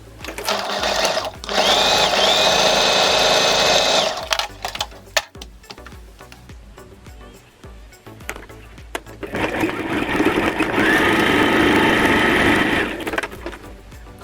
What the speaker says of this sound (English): So I'm gonna take my upper collar and I'm just gonna stitch both sides